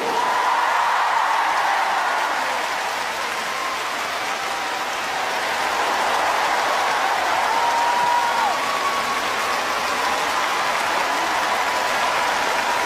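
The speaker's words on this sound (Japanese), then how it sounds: "冬と夏の王者に今一度盛大な拍手を。" Steady, rain-like roar of applause from a large arena audience at a figure skating ice show, continuous and evenly loud throughout, with faint cheers rising from the mass of clapping.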